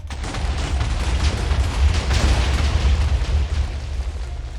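Video game explosion, a loud sustained burst of booming, crackling blasts rolling continuously and close, with no voices over it.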